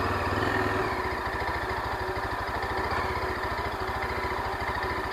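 A Yezdi Adventure motorcycle engine pulling steadily in first gear at about 2000 RPM, a loud, even low thumping pulse that holds constant from start to finish with no talk over it.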